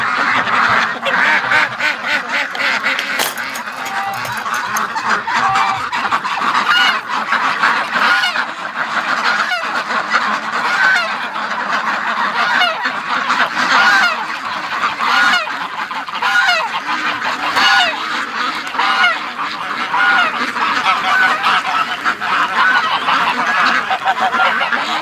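A flock of geese honks loudly and continuously, many overlapping calls close by, with some duck quacks mixed in.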